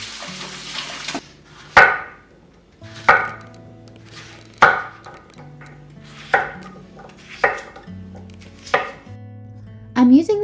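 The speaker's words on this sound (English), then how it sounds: "I'm going to go ahead and wash our potatoes so that we can start chopping them up" Potatoes are chopped on a cutting board for a homemade stew: about eight sharp knife strikes at a slow, even pace, close and crisp, with no talking.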